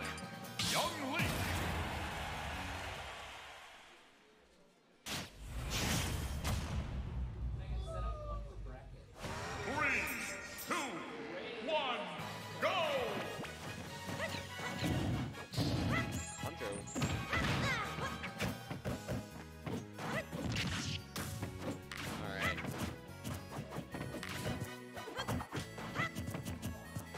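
Super Smash Bros tournament gameplay with Young Link brings repeated crashing, smacking hit effects and swooshes, dense and busy under almost constant commentary.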